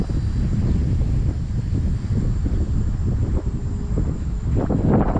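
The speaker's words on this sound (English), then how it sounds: "The wind is not helping either." Steady outdoor wind buffets the microphone beside fishing ponds at an industrial site, a continuous low rumble that stays loud and unbroken for the whole stretch, with faint background tones near the end.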